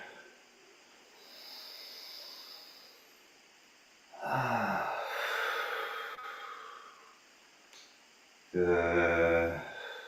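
During a yoga stretch, a person takes slow, audible breaths, with a long airy exhale, a deeper rushing breath mid-way and another forceful exhale near the end, close and unaccompanied by talk.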